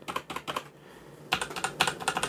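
Mechanical typing on an MSI Vigor GK41 keyboard with Cherry Red switches: two short bursts of quick, close keystrokes separated by a brief quiet pause, with a softer, less clicky character.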